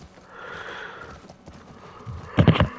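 Soft hoofbeats build under a faint ambient hum, then a short, loud horse whinny bursts out near the end, from the video game The Last of Us Part I.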